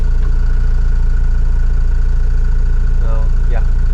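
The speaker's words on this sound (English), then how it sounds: "Get the engine going." Sailboat's engine running at a steady idle-like chug, loud and close with a constant low throb; a voice speaks briefly near the end.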